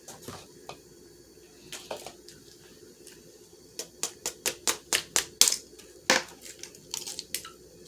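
Three eggs cracked one after another into Christmas cake batter with vegetable oil, giving a run of sharp, close clicks and taps, a few early and then a quick regular series, with no talking.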